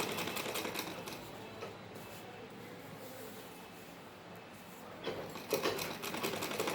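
A sewing machine stitching a salwar: a steady, close mechanical whirr with a fast repeating rattle that surges louder near the end; no speech.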